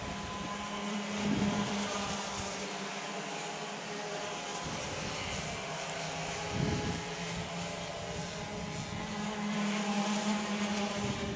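Club100 heavyweight sprint karts racing at Clay Pigeon, with a continuous engine drone that swells as karts pass, steady and moderately distant, with no voices over it.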